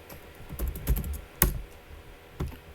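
Keystrokes on a computer keyboard while HTML code is typed, coming in short uneven bursts of close clicks with a couple of sharper isolated taps, no voices.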